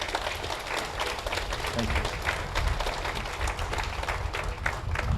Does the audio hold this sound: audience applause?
yes